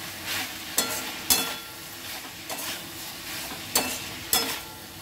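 Chicken sizzles steadily in a pan as green chillies are added, a constant frying hiss broken by several sharp scraping and clinking strokes of a spatula against the pan.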